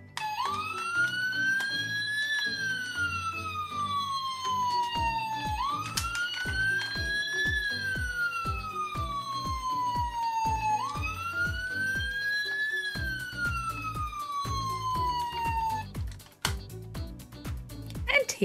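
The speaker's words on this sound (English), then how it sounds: "It's Nurse Flood's lovely ambulance" A Fireman Sam toy ambulance siren wails in repeated rising-and-falling sweeps, loud and close, with clicking and a jingly tune beneath it before it stops.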